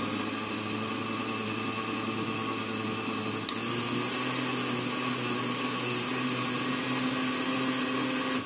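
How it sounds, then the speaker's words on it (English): A blender whirs steadily, chopping ingredients for a Lao spicy algae salad; the motor drones loud and constant, with a brief clunk partway through as its pitch shifts slightly, and no talking. "if it's not chopped all the way, just keep blending it"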